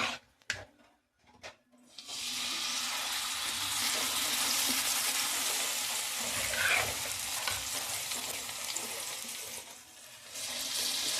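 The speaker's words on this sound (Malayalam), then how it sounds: "കുറേശ്ശെ മീനിട്ട് കൊടുത്തിട്ട് നമുക്കത് ഒന്ന് ഫ്രൈ ചെയ്തെടുക്കാം" Steady, loud sizzling of small paral fish frying in hot oil, a dense crackling hiss that starts after a few quiet clicks and continues without pause.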